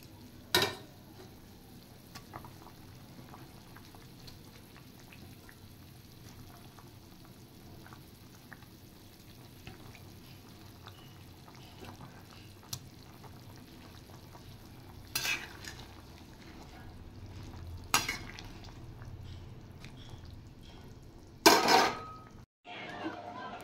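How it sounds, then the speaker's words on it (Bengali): Fried paneer added to boiling gravy in a pan, a low bubbling simmer with occasional sharp clatters and scrapes of stirring, while a voice talks faintly at times. "ঝোলটা ফুটে গেছে, এবার আমি দিয়ে দেব ভেজে রাখা পনির"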